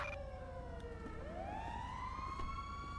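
A police car siren from the video game GTA V with the LSPDFR mod sweeps upward and settles into a steady wailing tone, moderately faint over engine noise.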